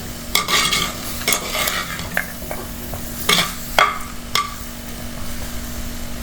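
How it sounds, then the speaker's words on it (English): Chopped tomatoes, about one and a half medium ones, tumble into a hot frying pan and are stirred, with irregular scrapes and clinks of a utensil against the pan over a steady sizzle. "I am adding some chopped tomatoes"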